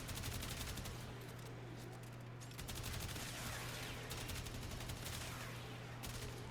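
Rapid automatic gunfire from the Tiberon Prime rifle in the Warframe video game, crackling in continuous bursts with brief gaps, over a steady low in-game hum at moderate level.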